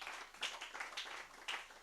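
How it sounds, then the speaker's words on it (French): A church congregation applauding during a French-language service, a steady, moderately distant patter of many hands clapping with a few louder claps standing out, without talk. "Donnez une main d'acclamation au Seigneur."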